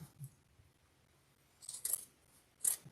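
A few quiet snips of scissors trimming fabric close to the stitches of a sewing project, two or three brief crisp cuts after a near-silent stretch.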